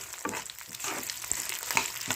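Food sizzles and crackles steadily in a decades-old iron pan, fried slowly, with soft scraping stirs at intervals and no talking.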